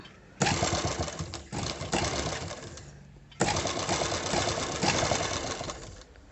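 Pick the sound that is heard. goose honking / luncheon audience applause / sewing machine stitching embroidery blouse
sewing machine stitching embroidery blouse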